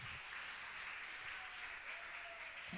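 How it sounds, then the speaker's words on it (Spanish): A church congregation claps together during a Sunday school service, a steady, moderately distant patter of many hands lasting a few seconds, with a faint tone and a soft thump near the start and end. "Denle un aplauso al Señor por eso."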